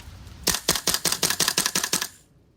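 A VFC Colt M723 gas blowback airsoft rifle fires one rapid full-auto burst of about nine sharp, loud, close cracks in quick regular rhythm, followed by quiet.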